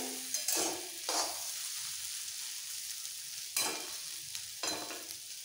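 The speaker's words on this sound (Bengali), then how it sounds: "এইভাবে গ্যাসের ফ্লেমটা একটু কম করে নাড়াচাড়া দিয়ে ভেজে নিতে হবে।" Bitter gourd and pumpkin are stirred and fried in a pan over a lowered gas flame, with repeated scraping strokes from a spatula at irregular intervals over a soft, steady sizzle, close up and with no talking.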